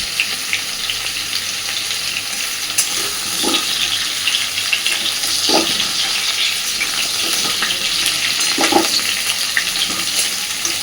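Pumpkin pieces fry in a pan with salt and turmeric, crackling in a continuous close sizzle with a few louder pops and stirring scrapes.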